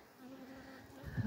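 Honey bees buzz around the hives of an outdoor apiary in the morning, a steady low droning hum that swells louder near the end as a bee passes close.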